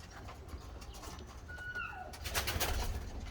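Postacı pigeons flocking to water after going thirsty coo softly in the distance, with a few faint chirps and light rustling over a quiet low background hum.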